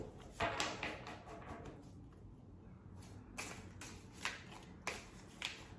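A tarot card deck is shuffled in several crisp bursts of riffling and flicking, close and fairly quiet, separated by short pauses.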